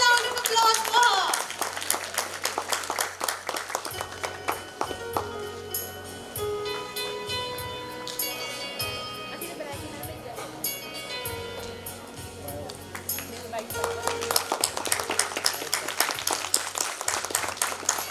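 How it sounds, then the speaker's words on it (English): At a school annual function, an audience applauds a first-prize winner with sustained clapping layered under loud background music, and voices murmur through it. "Huge round of applause for her."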